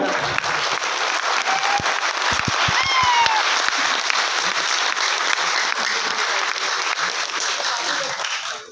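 A hall full of seated audience members claps loudly and continuously, a thick even roar of applause with occasional distinct sharp claps and faint voices underneath.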